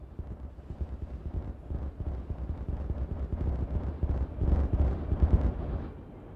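Dynamite detonations in the beaver city-building game Timberborn: a rolling, rumbling blast that builds from a low crackling roar into heavier booms near the end, loud and alone without talk.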